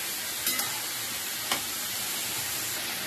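Cabbage sabzi being stir-fried in a pan, a steady soft sizzle and hiss with a few brief scraping stirs of the spatula, close and moderately quiet, no voices.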